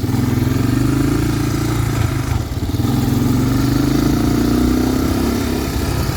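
A 1985 Honda Big Red 250ES three-wheeler engine runs steadily up close, a loud continuous mid-pitched drone with a brief dip before settling back into a constant chug.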